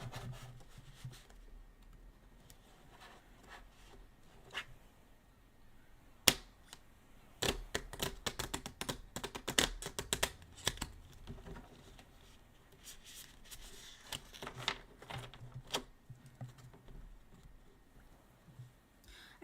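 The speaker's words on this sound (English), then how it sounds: "I gotta split it up into 4 little things and shuffle them like" Tarot cards are shuffled in small split piles, quiet and close, with sparse soft flicks at first, then dense bursts of riffling and tapping that come and go.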